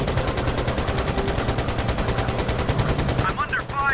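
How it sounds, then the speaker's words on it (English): Rapid machine gun fire from a Pacific-theater air combat video game, a steady loud stream of evenly spaced shots that briefly thins near the end as a voice cuts in. "I'm under fire."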